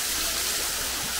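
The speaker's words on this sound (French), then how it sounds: "Alors, encore une cascade." A waterfall near the foot of the Piton in Saint Lucia roars as a constant, even wash of falling water, steady and fairly close, with no voices.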